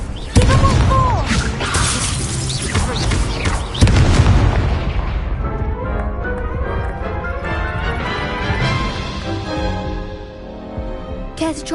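Confringo explosive spells blast repeatedly in a Hogwarts Legacy duel: loud booming, crackling bursts with shattering debris over layered game music and effects, with a big hit near the start and another around four seconds.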